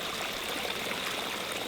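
A small stream of water, running red with iron, flows continuously with a steady, close trickling rush and no pauses.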